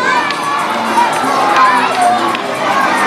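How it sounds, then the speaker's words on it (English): A large live audience at a season-finale show cheers and shouts loudly and continuously, with excited high-pitched voices of children mixed into the roar. "A round of applause for a Lit Spot t-shirt."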